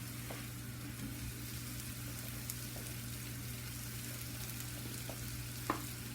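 Cauliflower fries in a pan on a stove, giving a soft, even sizzle over a low steady hum, broken by a few faint ticks and one sharp click near the end.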